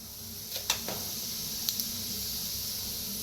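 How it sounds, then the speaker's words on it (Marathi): Mustard seeds crackle in hot oil in a pan, with a few sharp pops standing out over a soft, steady hiss. There is no talking. "बघा तेल चांगलं गरम झालं की नाही कशी मस्त अशी मोहरी तटतटायला लागली"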